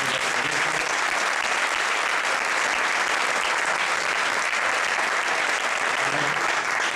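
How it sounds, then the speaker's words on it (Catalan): Sustained, dense applause from an audience at an architecture award ceremony, honouring the winners of the Premi Toni Cobos. The clapping stays loud and steady throughout, with no break and no voices on top. "Un aplaudiment."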